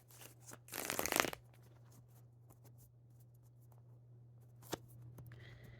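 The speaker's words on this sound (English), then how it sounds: "I'm going to shuffle again." Tarot cards being shuffled in a quiet room, a short loud riffling burst near the start, then scattered faint card handling and one brief snap over a steady low hum.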